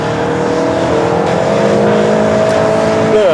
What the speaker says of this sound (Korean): 가속 페달을 밟았을 때 들려오는 엔진 사운드, 상당히 매력적인 사운드가 잘 부각되고 있다고 생각이 됩니다.